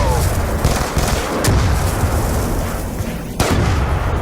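Loud gunfire and heavy booms from Black Ops 2 Zombies gameplay, dense rumbling blasts with a few sharp louder shots standing out, continuous throughout.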